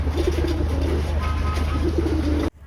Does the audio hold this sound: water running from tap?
no